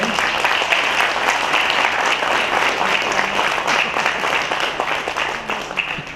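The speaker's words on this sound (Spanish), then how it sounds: "Vamos a darle un fuerte aplauso." Loud, steady applause from an audience welcoming engineer Rafael Cortés, school director, at a presentation event; dense clapping fills the whole stretch with a faint murmur underneath.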